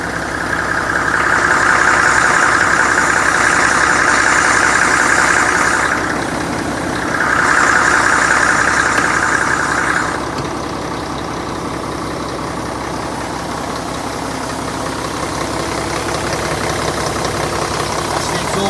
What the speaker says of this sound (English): That's the exhaust brake on because she's cold, so she's warming up at the minute, so she's got the exhaust brake on.